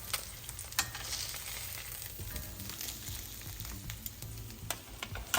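Teriyaki salmon pan-searing in a hot pan, a steady close sizzle and frying hiss with occasional sharper clicks and pops from stirring or shifting, no voices.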